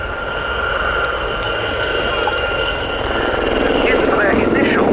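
Westland-built Gazelle helicopters fly in formation at the RAF Cosford airshow, their steady rotor and turbine whine loud and close, holding a constant drone with a slight rise in pitch near the end.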